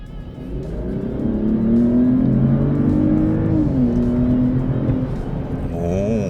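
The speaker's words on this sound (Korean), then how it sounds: "자 엔진 소리 어느 정도 나는지 한번 들어볼까요? 스포츠 모드." A Mercedes-Benz GLE 450 engine revs steadily and loudly in sport mode, heard from inside the cabin, its pitch rising and then dipping as it pulls hard.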